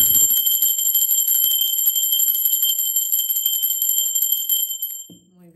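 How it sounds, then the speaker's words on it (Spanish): A bright, sustained high-pitched bell tone rings steadily for about five seconds, then cuts off abruptly as a faint voice begins. "Va campana, chicos."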